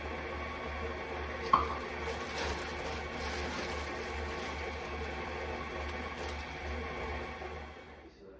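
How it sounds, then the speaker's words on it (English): A KitchenAid stand mixer kneads pizza dough at speed setting 2, giving a steady, low mechanical whir with faint rhythmic thumping, one brief click partway through, then winding down to quiet at the end. "Now that our dough has kneaded in our KitchenAid mixer for about 5 minutes"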